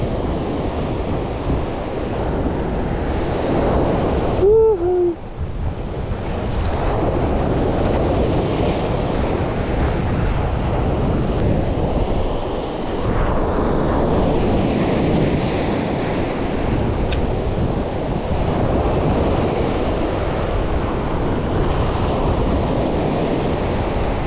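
Waves wash steadily onto a shore at high tide at a fishing spot, a continuous broadband surf roar with wind buffeting the microphone and a brief knock near the start, no talking.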